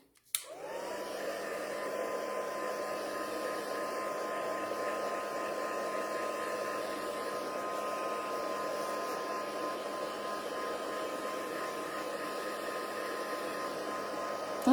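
A heat tool drying a Stampin' Up lacquer effect on a craft project switches on with a click and then blows a steady, close whooshing whir that holds without a break.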